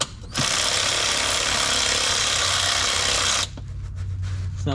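A ratchet tightens a transmission pan bolt on a 2005 Mazda 3 in a rapid, continuous, loud clicking burst lasting about three seconds, close up, with no talking during it.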